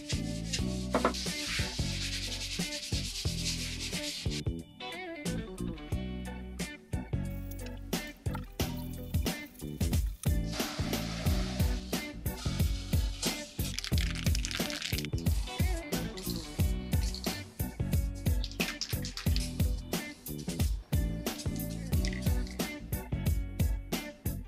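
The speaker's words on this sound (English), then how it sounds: "so I've got my panel ready to sand and got a bucket of water with a bit of soap and my 600 grit paper" A motorbike fairing panel is wet-sanded with 600 grit paper and soapy water, giving rhythmic, close rubbing strokes with wet squishing and dripping, repeated in quick bursts with brief pauses.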